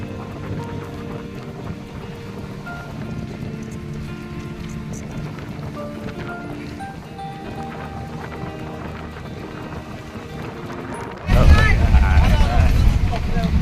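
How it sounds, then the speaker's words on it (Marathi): Steady rain patters on a leaky, run-down bus over its low rumbling engine, then suddenly grows much louder and closer near the end, drumming hard on the surface. "पावसाला सुरुवात झालेली आहे"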